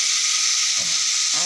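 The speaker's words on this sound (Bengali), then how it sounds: "মশলাটাকে আমি পেঁয়াজের সঙ্গে একটু কষিয়ে নেব" A ground spice paste fries with onion in a hot pan, giving a steady, bright, close sizzle throughout with a couple of soft stirring scrapes.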